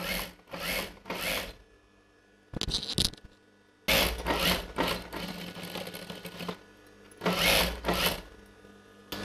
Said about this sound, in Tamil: நம்ம கரெக்டாக இங்கே வச்சு ஸ்டிச் பண்ணலாம்